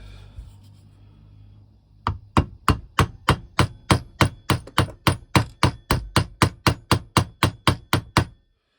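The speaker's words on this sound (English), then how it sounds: "Get a copper hammer." About twenty sharp metallic taps of a copper hammer driving a clutch bearing into a Makita DPC6400 cut-off saw, in a steady, even rhythm, close and clear, after a brief quiet stretch.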